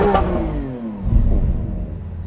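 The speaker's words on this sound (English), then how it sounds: "Now let's have some revs chaosness with the SVJ." A Lamborghini Aventador SVJ's V12 engine blips sharply, its pitch rising then falling away, followed by a second, lower rev, loud and close, with no talking.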